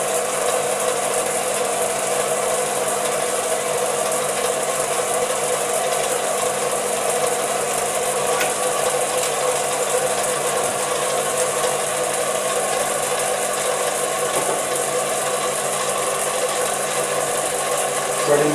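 A Chinese mini lathe runs in reverse while threading, a steady loud mechanical whine and gear rattle with a constant hum that holds unchanged throughout.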